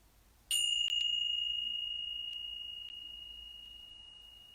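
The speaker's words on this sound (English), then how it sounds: "And I'll ring the bells just to start this practice" Meditation bells rung to open a practice session: one clear bright strike with a long sustained ringing tone, followed by a few lighter taps, the resonance fading slowly over several seconds in a quiet room.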